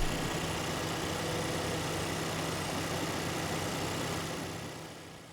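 A Renault Grand Kangoo's 1.3-litre four-cylinder turbocharged petrol engine idles, recorded up close in the engine bay under the hood, giving a steady, even hum that fades slightly at the very end.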